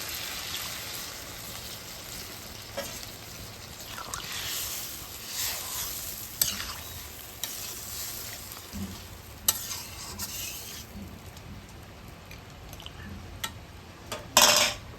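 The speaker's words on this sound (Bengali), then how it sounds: "মাংসটা তো সুন্দর কষানো হয়ে গেল এবার জল দিয়ে দিল" Braised meat sizzling in a pan while being stirred, with metal utensil scrapes and clinks against the cookware and a soft hiss of liquid cooking, quiet and close with no talk.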